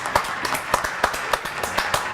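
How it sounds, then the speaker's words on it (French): Applause for a TV game-show contestant, a few people clapping in a loose, uneven rhythm, individual claps distinct and fairly close, without a large crowd. "Applaudissements pour Ménard."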